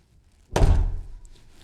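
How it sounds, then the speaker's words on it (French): A front door is pulled shut firmly at a holiday rental, landing as one loud, close thud with a short resonant tail that fades within about a second, with near silence before it. "vous pouvez claquer la porte fermement"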